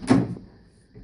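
A short clunk of a 1963 Chevrolet Impala car door latch releasing, near and fairly soft, followed by quiet room tone.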